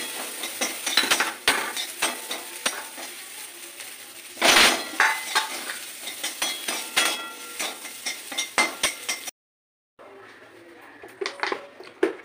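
Previously fried prawns taken from the fridge are reheated in a pan, with spatula scrapes and clinks against the metal over a faint sizzle, broken by a brief silence near the end.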